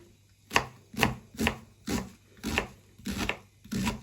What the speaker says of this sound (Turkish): Yemeklik bir baş soğanımı doğradım.